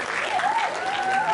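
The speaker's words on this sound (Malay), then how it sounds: "Satu tepukan gemuruh untuk mereka." Applause from a crowd at a university education faculty's golden jubilee ceremony, a steady dense wash of clapping with a faint sustained tone running beneath it.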